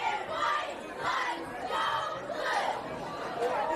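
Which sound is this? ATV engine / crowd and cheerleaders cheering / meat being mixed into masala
crowd and cheerleaders cheering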